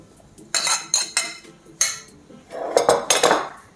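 Dry muffin ingredients for white chocolate muffins are tipped into the liquid in a bowl and mixed, with several close clinks and scrapes of a utensil against the bowl in an uneven rhythm.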